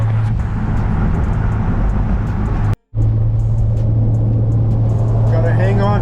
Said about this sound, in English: So I'm currently limping the BMW to the shop. I have the windows down just so I can hear anything is weird